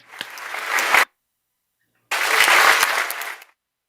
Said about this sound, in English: Let us give Governor Ana another round of virtual applause with the district officers.